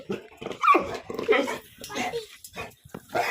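A dog gives short yips and whimpering barks close by, mixed with a person speaking over it.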